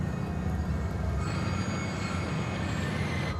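A train slowing to a stop in the rail yard at Golden, with a steady loud rumble of rolling wheels and a faint high squeal that rises partway through, heard close with no talking.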